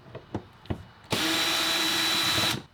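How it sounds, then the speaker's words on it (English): A power drill backs screws out of a gear track on an Old Town Sportsman kayak. A few light clicks and taps lead into one steady, loud, close whir lasting well over a second before it cuts off. "Next, you're gonna take out the rest of the screws."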